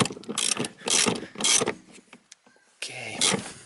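A wrench working a seat belt bolt loose on a Toyota Corolla, in short bursts of ratcheting clicks separated by brief pauses, close up and fairly loud.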